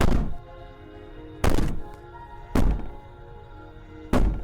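In the video game Slay the Princess, the princess violently bangs and rattles a door, landing four heavy booming thuds at uneven intervals, each followed by a rattling decay.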